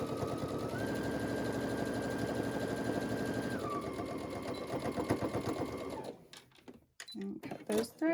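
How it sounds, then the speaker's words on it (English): A sewing machine stitches a zipper pouch seam, running at a steady, loud, even whir for about six seconds before stopping, followed by a few scattered clattering handling sounds. "I'm sewing at about 1/2 inch and sewing those together"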